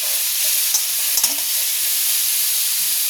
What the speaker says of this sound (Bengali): কড়াইতে আলু ভাজা তুলে দিয়েছি, একটা লঙ্কা ফোড়ন দিয়ে নুন হলুদ দিয়ে একটুখানি নেড়ে চেড়ে এটা চাপা দিয়ে দেবো